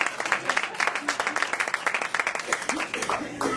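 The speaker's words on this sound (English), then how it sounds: "give my mother a round of applause" Audience clapping at a lecture hall talk breaks out in quick, uneven bursts, with voices mixed in over the applause.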